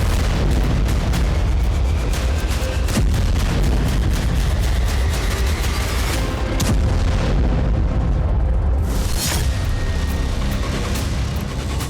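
Explosions from a HIMARS missile strike on Seletso in Russia's Bryansk region, a continuous loud rumbling roar with dense bursts and booms running the whole time, harsh and distorted with no voices.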